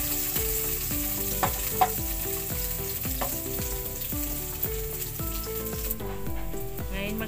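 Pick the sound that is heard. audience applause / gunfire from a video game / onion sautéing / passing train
onion sautéing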